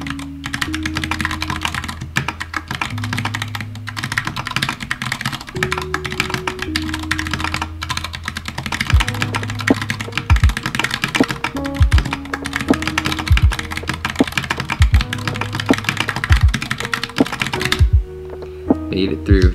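Fast, steady keyboard typing in a Dvorak-layout Typeracer typing game: dense, close clicking keystrokes that run continuously over low background music.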